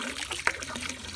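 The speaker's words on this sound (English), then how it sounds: "I've just got some regular household bleach here. So I'm just gonna pour a little bit" Household bleach pours briefly into a plastic storage container beside a backyard koi pond, a short soft trickle and splash with one sharper drop near the middle, faint and close.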